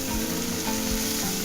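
Finely chopped green chillies frying in hot oil with mustard seeds and lentils in a pan, a steady loud crackling sizzle throughout.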